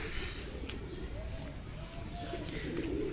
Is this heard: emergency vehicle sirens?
no